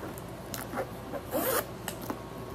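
Zipper on the front pocket of an off-white garment being pulled open in a few quick, soft rasping strokes, close and fairly quiet.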